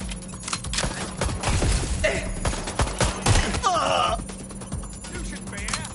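Gunfire in the video game Watch Dogs Legion crackles in rapid, repeated bursts close up, mixed with shouting voices and other game effects throughout.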